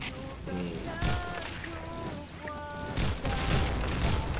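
Automatic rifle fire from the shooter game Point Blank comes in rapid bursts of loud, close shots, mixed with in-game effects and background tones.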